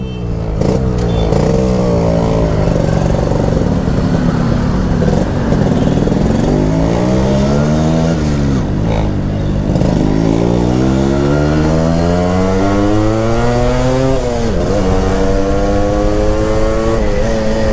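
A Yamaha RX Z motorcycle's two-stroke engine revs loudly and close, rising and falling in repeated throttle blips over a constant idle, with no talk.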